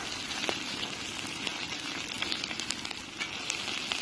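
A thin layer of chorizo sausage sizzles steadily on a cooking disc at an outdoor breakfast, with a constant crackling hiss and scattered sharp pops of spitting fat, close up.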